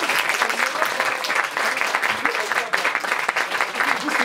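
Audience applause at a concert, a dense and steady wash of many hands clapping that holds evenly from start to finish.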